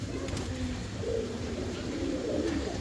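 A male Golla fancy pigeon coos in low, repeated throaty rolls, close and steady with no talk over it.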